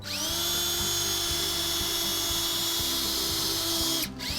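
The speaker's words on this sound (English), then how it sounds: "So we'll drill a hole." Power drill bores a hole into a wooden whiskey barrel, a loud, close, high-pitched whine with rhythmic load changes as the bit bites, stopping abruptly near the end.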